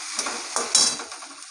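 Papaya pieces sizzle and crackle lightly in hot oil while a utensil scrapes and stirs the pan a few times.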